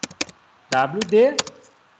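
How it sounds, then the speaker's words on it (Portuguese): A few sharp computer keyboard keystrokes tap out the passwd command, with a voice speaking briefly between the key clicks. "Se eu quero trocar minha senha, eu vou digitar passwd"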